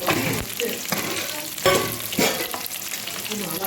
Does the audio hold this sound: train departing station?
no